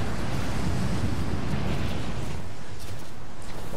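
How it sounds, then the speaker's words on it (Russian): Strong, steady wind blows through a mountain slope in the Rise of the Tomb Raider video game on Xbox 360. It is a loud, continuous broadband roar with heavy low rumble and gusting hiss, and there is no talk. "Ветер тут бешеный."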